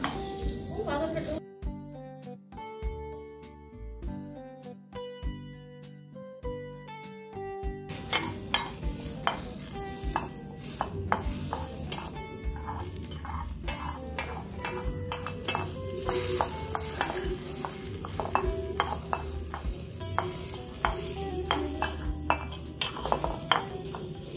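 Food frying and being stirred in a small miniature pan with tomato, a spoon scraping and clattering in quick repeated strokes under a constant sizzle, after a brief stretch of tonal music at the start.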